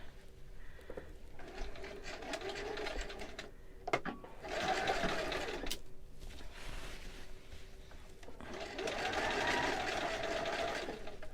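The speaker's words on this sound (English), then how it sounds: "I'm just sewing on the exact same line I sewed before." A sewing machine stitches along a zipper line in two or three steady mid-level runs, with brief pauses and a clack between them, heard close and without speech.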